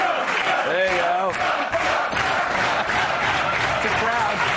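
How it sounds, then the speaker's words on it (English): A studio audience at a late-night talk show cheers and applauds loudly, a dense, continuous wash of crowd noise with shouts rising through it for the whole stretch. "It's a crowd."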